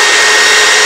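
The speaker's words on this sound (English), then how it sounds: "use the hairdryer." Hairdryer blowing steadily on hairsprayed hair while styling a sleek low bun, a close, loud, continuous whoosh of airflow with no talking.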